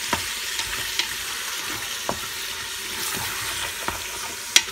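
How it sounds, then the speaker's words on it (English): Bite-sized trimmed chicken thigh chunks stir frying in an Instant Pot, a steady close sizzle with occasional sharp utensil taps. "And we're going to stir fry this real quick"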